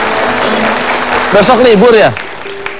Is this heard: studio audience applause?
yes